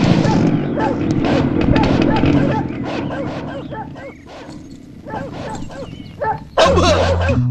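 Several dogs bark and yip angrily in a comedy film scene, a dense run of close, loud barks followed by sparser yelps and one sharp outburst near the end.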